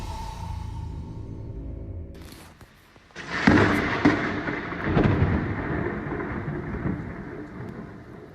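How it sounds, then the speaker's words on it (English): Heavy thunder rolls through a severe thunderstorm in Homewood, Alabama, with a sharp crack of a nearby lightning strike at about three seconds followed by a long loud rumble over steady rain. "Thunder and a big bolt of lightning right there"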